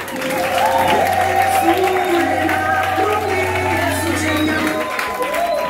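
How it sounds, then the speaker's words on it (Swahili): A church congregation applauds warmly in a welcoming round, the steady clapping blending with crowd noise, cheers and a sustained musical drone, with voices over it throughout. "Sasa pigeni makofi mazuri."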